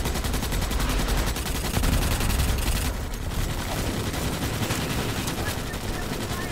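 Dense, continuous gunfire from Starship Troopers: Extermination, rapid automatic bursts layered with booms in a loud, chaotic battle mix, with voices faintly underneath.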